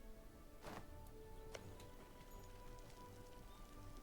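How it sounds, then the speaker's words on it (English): Steady rainfall in a strategy video game, a soft continuous hiss of drops with a couple of brief sharper spatters, faint and even throughout. "Devastating rain."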